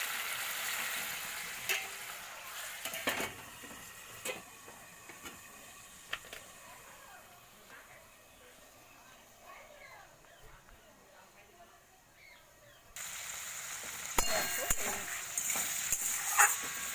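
Potatoes and cauliflower sauté in spice paste with a soft, close sizzle and scraping stirs, occasional utensil knocks, and a louder burst of frying near the end.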